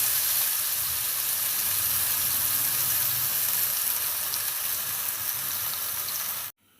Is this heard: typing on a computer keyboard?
no